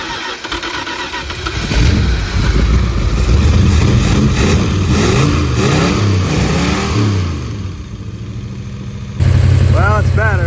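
A car engine with a newly installed cam runs during break-in, starting up and revving with loud rising and falling roars close by, then settling into a steady run.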